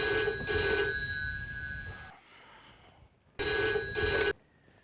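A telephone bell rings in two bursts separated by a short pause, loud and close, with quiet between rings.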